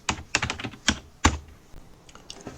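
A password tapped out on a computer keyboard for a Raspberry Pi user, a short run of crisp, close keystrokes in an uneven rhythm, louder early then trailing into lighter taps.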